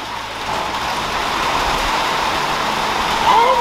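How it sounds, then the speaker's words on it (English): Heavy rain pours down steadily outdoors near a car, a dense, continuous wash of noise that holds constant throughout, with a faint tonal sound rising briefly near the end. "it's dumping rain"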